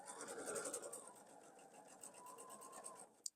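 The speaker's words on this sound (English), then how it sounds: "This one I'm going to sew the length of this piece. I'm going to go nice and slow, pulling on my pins as I go." A sewing machine runs slow and steady along the length of a quilt piece, a continuous fast needle chatter throughout, ending with a brief click as it stops.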